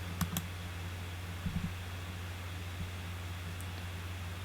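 Computer mouse clicking on a Next button during an online form application, a couple of sharp faint clicks near the start followed by a few more soft taps against a steady low electrical hum.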